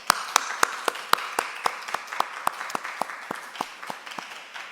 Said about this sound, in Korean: 다시 한번 우리 예배를 받으실 하나님께 더 큰 박수로 영광 올립니다